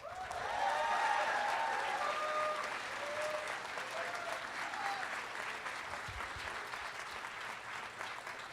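Convention audience at a closing ceremony applauds in a sustained, dense wash of clapping with some cheering and whoops, loudest at the start and holding steady throughout.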